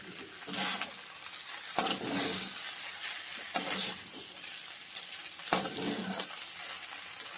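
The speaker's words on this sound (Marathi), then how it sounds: "याला छान असं हलवून घेणार आहे शाबुदाण्याला" Sabudana (tapioca pearls) being stirred in a pan for a fasting dish, with soft scraping sweeps and a light sizzle, punctuated by four sharper spoon strokes at regular intervals, close and moderately quiet.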